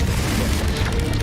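A Confringo explosive spell bursts in Hogwarts Legacy as a loud, dense, continuous booming roar that fills the whole short moment with broad rumbling noise and no clear speech.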